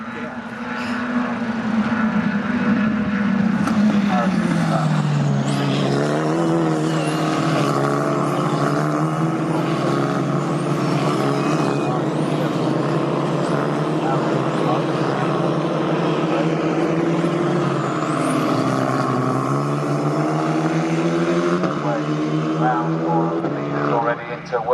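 National hot rod race cars roar down the Bentley Straight at Snetterton during a GB4 Championship race, their engines loud, steady and rising in pitch, with a race commentator talking over the noise throughout.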